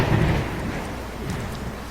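A stormy night amid Manhattan traffic: a deep thunder rumble at the start gives way to a steady, dense hiss of heavy rain, with no voices.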